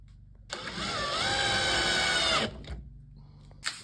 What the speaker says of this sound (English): just drill a hole into there and we'll be ready for the new drawer.